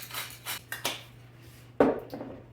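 A hand pepper grinder works in a home kitchen, giving a few short scraping, crunching twists spaced apart, close and fairly quiet.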